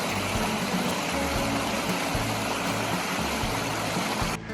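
Steady broadband rushing of a flowing stream at a campsite, continuous and close, with a low rumbling undertone throughout and no voices.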